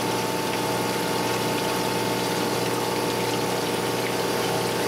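A surface grinder grinds tappets with a steady, unbroken machine hum and hiss, loud and close, holding an even tone throughout with no talking.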